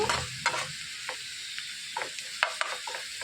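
Onions for a stuffed bitter gourd fry sizzle gently in a pan over low heat, with frequent light clicks and scrapes of stirring, close by and without talking.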